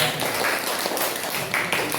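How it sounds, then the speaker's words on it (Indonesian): A class applauds together in a classroom. A continuous, moderately quiet wash of clapping hands lasts about two seconds, with voices mixed in. "Kita berikan tepuk tangan untuk kita semua."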